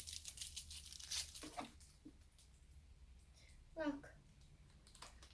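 Plastic wrapping being torn open on a convenience-store watermelon ice cream cake, with close crinkling and tearing bursts, quiet pauses between them, and a voice speaking briefly.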